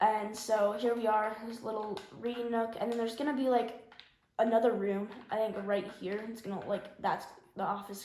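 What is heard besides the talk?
No everyday noise stands out behind the speech.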